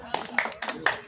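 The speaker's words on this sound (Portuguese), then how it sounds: "Vamos aplaudi-lo." Live audience clapping for a poet at an outdoor cultural poetry event, bursts of applause rising and falling in several quick waves over a murmur of voices.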